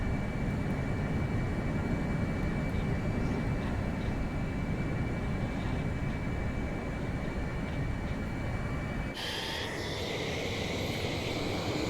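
An F-35B jet in Microsoft Flight Simulator 2024 roars steadily with a loud, constant engine rush, and near the end the tone shifts to a harsher, brighter blast as the air brake deploys.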